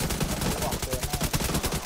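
Rapid, evenly spaced bursts of automatic gunfire crackle in a video game, loud and close, firing steadily for two seconds without pause.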